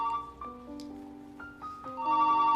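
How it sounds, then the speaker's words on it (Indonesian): A mobile phone ringtone plays a short electronic melody of stepping notes, repeating phrases with no talking. "ketika tengah ujian HP-nya berdering"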